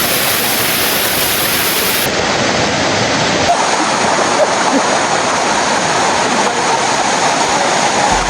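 A hidden limestone waterfall in Antique roars in a dense, constant rush as its current strengthens, loud and close with no voices over it.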